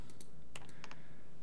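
Computer keyboard keys are pressed while modeling in Maya 2018, a handful of quick, close clicks in an irregular rhythm with no voices.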